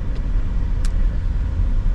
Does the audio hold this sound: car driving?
yes